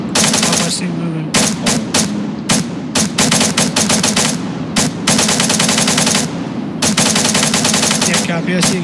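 Machine gun suppressing fire in a combat setting, long loud bursts of rapid automatic shots broken by short pauses, close and dominant, with faint voices underneath.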